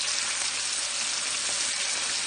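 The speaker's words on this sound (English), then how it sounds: "when you're frying the chicken breast, you don't over fry it" Dense, hissing sizzle of chicken breast frying in a pan, close and steady without a break.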